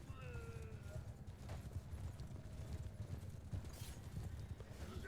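Horses in the Bannerlord video game trot with rapid clip-clopping hooves amid a castle siege din, and one horse neighs, all under a steady low rumble of battle noise.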